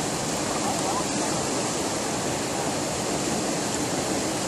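Steady, broadband rush of a Michigan river flowing, a continuous even wash of water filling the whole stretch with no breaks or other sounds.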